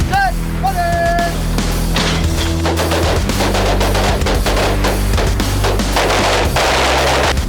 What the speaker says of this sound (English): The FK Field Pistol has a proprietary recoil attenuating system that allows it to fire such a powerful cartridge.